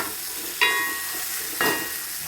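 Onions sautéing in a pan for a Kerala-style duck roast make a continuous close sizzle, broken by two sharp scraping stirs about a second apart.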